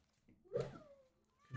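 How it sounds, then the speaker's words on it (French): A cat gives a single short meow with a falling pitch in a room indoors, close to the listener, while people are faintly present nearby. "Oh, le chat."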